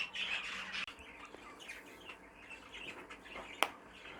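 A small caged bird gives brief squawks and chirps, close and fairly quiet, with a sharp call near the end and faint flapping or cage noise.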